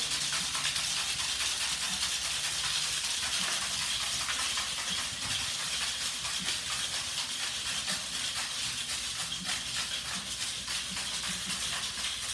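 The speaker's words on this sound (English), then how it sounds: "You just shake it really, really hard." A cocktail shaker holding ice, mezcal, basil, apricot and egg white is shaken hard without pause, making a dense, even rattling hiss from start to finish.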